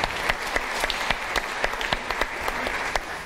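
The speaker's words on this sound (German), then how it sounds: "der Applaus ist berechtigt" Sustained applause from a crowd, steady clapping throughout with a few sharper claps standing out.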